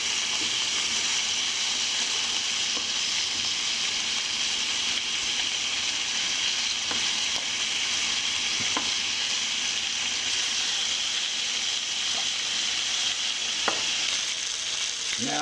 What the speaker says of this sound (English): while we have our bacon cooking up